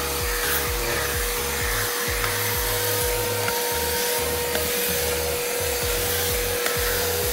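A Bissell MultiClean spot and stain cleaner vacuums a treated spot, its steady motor drone running loud and continuous with rhythmic low thumps as the nozzle passes back and forth.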